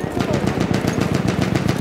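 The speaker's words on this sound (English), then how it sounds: "Enemy machine gun sighted." Rapid, continuous machine gun fire in a video game, a loud close burst of evenly spaced shots running the whole brief clip.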